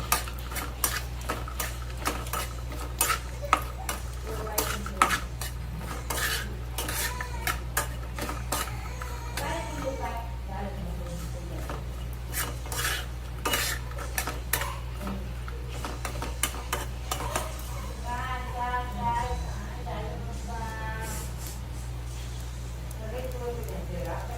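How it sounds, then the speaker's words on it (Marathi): Chopped coconut is stirred and tossed in oil in a pan while roasting, giving steady clinks and scrapes of a utensil against the pan under continuous background music. "नंतर हे जे कापून घेतलेलं खोबरं होतं ते घालूया. आणि असं खालीवर करून घेऊया."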